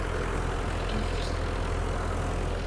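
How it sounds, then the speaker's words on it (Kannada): A driverless tractor spraying medicine and fertilizer at an agricultural fair, its engine droning in a steady low, continuous rumble with a constant hum and no talk over it. "ಡ್ರೈವರ್ಲೆಸ್ ಟ್ರ್ಯಾಕ್ಟರ್, ಅದಕ್ಕೆ ಡ್ರೈವರೇ ಇಲ್ಲ."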